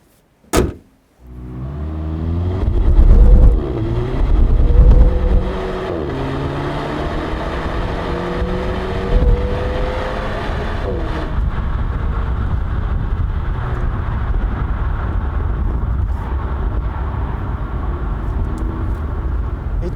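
A 2020 Kia Forte 5 GT with a seven-speed dual-clutch transmission and front-wheel drive accelerates hard, its engine note rising through several gear shifts after a brief click, then holding at a loud, steady cruising drone.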